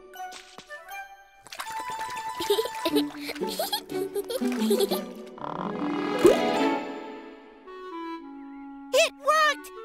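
Cartoon water effects for rinsing a sheep's flattened wool, with drips, plops and squishy splashes over light background music, ending in bubbly chirping gurgles, with voices talking between the effects.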